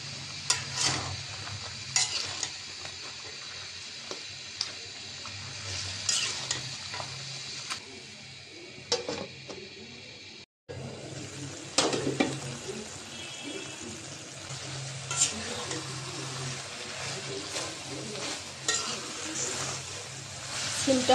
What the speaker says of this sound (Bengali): আমি মশলা কষানোর সাথে সিম দিয়ে দিলাম, সিমটাও কষাই নেব।